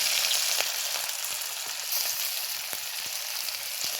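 Green chilli and grated ginger sizzle steadily in hot tempering oil, a continuous bright frying hiss with a few faint clicks of utensils, close and even throughout.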